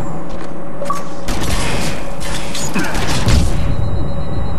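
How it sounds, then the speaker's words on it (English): Grenade blasts boom through a Halo Forge map Team Slayer match, loud bursts mixed with gunfire and mechanical game effects, thick and continuous over the whole stretch. "Oh, Chrissy's grenades"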